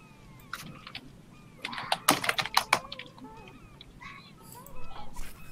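Brisk computer keyboard typing comes in short clustered bursts of clicks, fairly close and moderately loud, with quiet gaps between flurries and faint background sounds.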